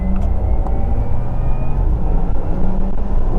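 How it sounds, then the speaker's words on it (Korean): Inside a Porsche Taycan 4S electric car with the sport sound switched on, a loud, steady cabin rumble carries thin synthetic tonal whines drifting in pitch, with no one speaking. "그리고 무엇보다 이 스포츠 사운드 켜고 끌 수 있는데요."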